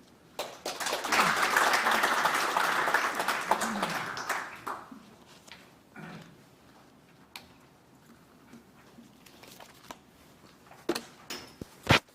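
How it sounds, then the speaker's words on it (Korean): An audience at a Korean defense industry society breakfast forum claps after a presentation, a loud sustained round of applause that swells early, fades after several seconds, then trails into scattered isolated claps. "좋은 발표를 해주신 청장님과 정재준 기획조정관님께 다시 한번 큰 박수 부탁드리겠습니다"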